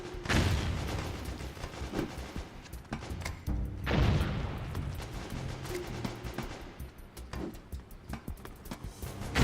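Bursts of gunfire and booming blasts in a shooter video game, including a grenade going off, with several loud hits spaced a few seconds apart between quieter stretches of clatter.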